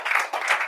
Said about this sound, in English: Please, once again, let us give a round of applause to her.